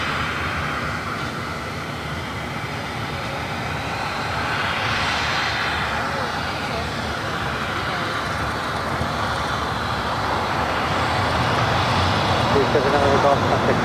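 A Turkish Airlines Airbus A350-900 arriving from Istanbul at LAX makes a broad, steady jet roar that swells as the aircraft passes and then holds loud, with distant traffic rumble underneath.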